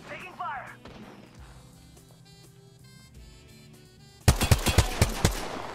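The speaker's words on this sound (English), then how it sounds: "Taking fire." Apex Legends gunfire: after a few quiet seconds of ambient game noise, a sharp series of loud, close shots cracks out in a rapid rhythmic volley.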